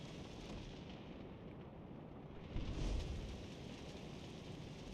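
A battleship's main guns fire in World of Warships Legends, a deep rolling boom swelling briefly near the middle over a constant low rumble of sea and battle ambience.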